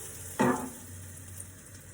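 Pancake batter hits a hot frying pan with a sudden sizzle that flares up, then settles into a quieter steady frying hiss, close and alone.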